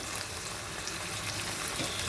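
Fish curry spices, roasted cumin powder among them, sizzle quietly in a pan as a soft, steady crackle without a break.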